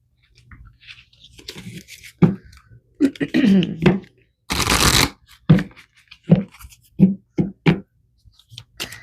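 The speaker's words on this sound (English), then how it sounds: "Let's pull one final card here from Spirit." Tarot cards are shuffled and drawn in a series of separate riffles and snaps, each a short sharp burst with quiet gaps between them, close and crisp, plus one longer flutter of cards near the middle.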